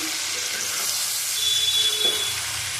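Potatoes and pointed gourd fry in a pan, giving a continuous soft sizzle with light stirring scrapes and faint clinks close by.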